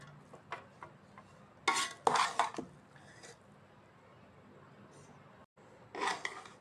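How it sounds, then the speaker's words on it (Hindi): Cooked beef biryani rice being mixed in a pot at home: a few scraping, stirring bursts against the metal, loudest in a cluster near the middle and again at the end, with quiet gaps between. "अब मैं इसको मिक्स करूँगी।"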